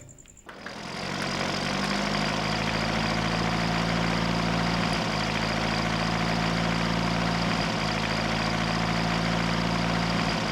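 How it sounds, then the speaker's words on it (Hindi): A tractor engine starts up and settles into a steady, loud, low idle that holds throughout with an even drone and no voices. "ये तो ट्रैक्टर की आवाज थी"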